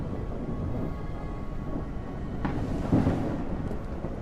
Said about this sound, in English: That thunder is so loud.